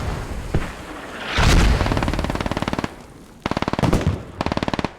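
Heavy machine gun fire in the video game Squad, with bursts of rapid rhythmic shots mixed with booms and distant gunfire, the loudest burst coming near the end.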